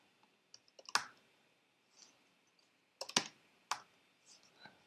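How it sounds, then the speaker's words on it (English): Crisp keystrokes on a computer keyboard come in a few quiet, irregular bursts of clicks, close to the mic, with no speech. "You probably hear me typing this stuff crisply."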